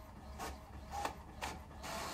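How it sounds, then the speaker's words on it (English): A 3D printer printing a gun hums and whirs with soft periodic mechanical sweeps as the print head moves, fairly quiet and steady, with no voices. "Now here we have the printer doing its work, making sure that that gun is printed."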